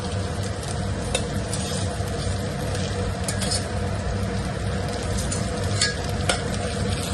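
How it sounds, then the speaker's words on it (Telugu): Ginger garlic paste roasting in a pan with onions, a steady sizzle and frying hiss running throughout, with occasional stirring scrapes and clinks from the pan, close and continuous, no talking. "ఈ అల్లం వెల్లుల్లి పేస్ట్ అనేది కూడా మంచిగా రోస్ట్ అవుతుంది"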